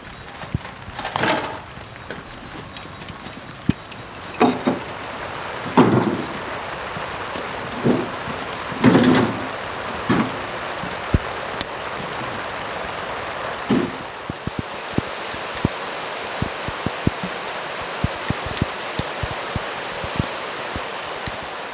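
Evening rain falls outside a farmhouse under renovation, a steady hiss broken by scattered drips and occasional louder knocks across a long stretch, with no talking.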